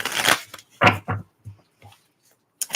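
Tarot cards being shuffled in several quick riffling bursts separated by short pauses, close and crisp, with no talking.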